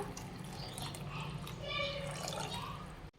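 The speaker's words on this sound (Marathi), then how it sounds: "आता यामध्ये घालूयात गरम पाणी" Hot water is poured into a pan of aamti curry, a soft close gurgling pour lasting a few seconds before stopping abruptly.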